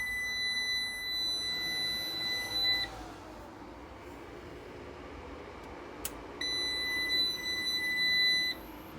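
A power inverter being switched on for the first time gives a high electronic beep that holds for a few seconds, falls silent, then sounds again, over a quiet background hum.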